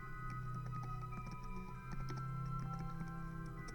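Typing on a computer keyboard: faint, irregular light key clicks in a quick scattered rhythm over a low hum, no voice.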